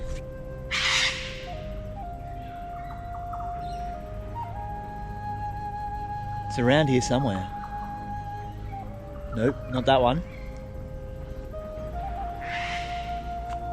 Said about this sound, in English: There's some scary sounding bird around here. It's very pterodactyl-like.